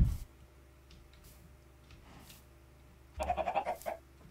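A single short Minecraft sheep bleat near the end, with a wavering tremble, over quiet background ticks and soft clicks.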